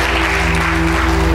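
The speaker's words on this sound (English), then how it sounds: "Give the Lord a mighty clap offering." Church congregation at a Sunday service gives a loud clap offering to the Lord, a brief dense burst of clapping over a steady electronic hum from the sound system.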